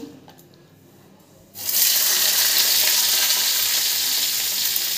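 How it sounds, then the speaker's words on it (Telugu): Ridge gourd pieces drop into hot oil and fry, bursting into a loud, steady bubbling sizzle after a quiet start and holding close and strong to the end. "ఇప్పుడు ఇదే ఆయిల్లో బీరకాయ ముక్కల్ని ఫ్రై చేసుకుందాం."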